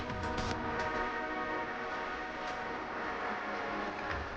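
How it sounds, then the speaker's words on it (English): Eurostar train idling at a station platform before boarding, a steady broadband rumble with sustained tonal hum and faint brief sounds, continuous and fairly loud with no talk. "the Eurostar platforms, where my train for today is currently waiting for boarding to start"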